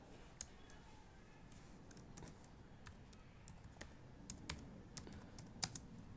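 Fingers type code for a Java GUI bakery management program on a computer keyboard, giving irregular clusters of crisp key clicks at moderate-to-faint level with no voice over them.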